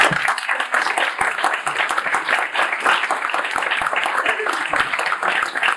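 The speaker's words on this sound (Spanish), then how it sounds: "Darle un aplauso al protagonista." Audience applauding at a book presentation in Valencia, a steady, dense crowd of many hands clapping continuously and fairly close, with a faint murmur of voices underneath.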